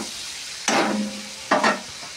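Chicken sizzles in a hot pan while a utensil scrapes through it in two distinct stirring strokes, close and fairly loud.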